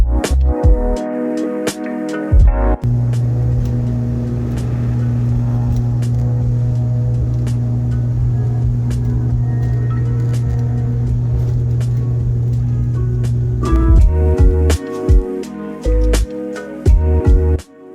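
An Aer Lingus ATR-72 propeller plane taking off, heard from the cabin as a loud steady turboprop drone with a strong low hum that holds for most of the clip, with rattles and bumps at the start and end.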